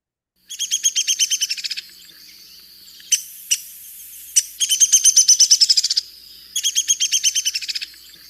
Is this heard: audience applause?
no